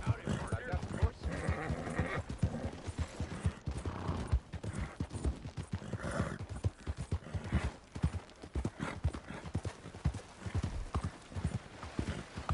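Horse hooves clip-clop in a steady, close rhythm through Red Dead Redemption 2, with a brief whinny and voices talking over the hoofbeats.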